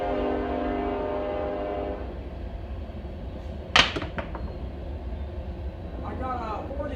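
A freight train rumbles past nearby with a steady low roar, its horn sounding in long harmonic blasts at the start, followed by a sharp clank and lingering rail noise.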